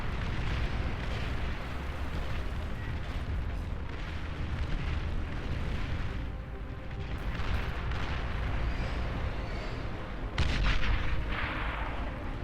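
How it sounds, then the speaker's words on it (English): A tactical missile launcher firing in the strategy game Beyond All Reason, heard as a continuous rumble of booming launches and explosions layered over one another, with a sharper burst of blasts near the end. "A tactical missile launcher. Doing work right there."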